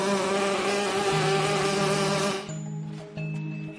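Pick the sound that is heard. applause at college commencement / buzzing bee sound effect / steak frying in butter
buzzing bee sound effect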